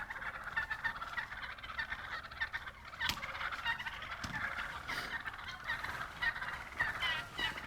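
Wild turkey jakes gobble repeatedly in excited, overlapping bursts at a roost site in north central Oklahoma, heard at moderate distance and fairly faint, with no talking.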